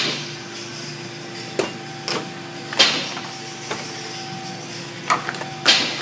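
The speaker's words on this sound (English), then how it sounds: "Now we're just going to unsnap the 2 plastic covers" Sharp plastic snaps and clicks as trim covers are pried off a 2006-2010 Dodge Charger headlight assembly, about half a dozen distinct pops spaced irregularly over a faint steady hum, close by and with no talking.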